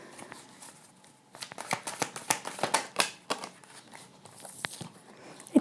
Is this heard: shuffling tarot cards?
yes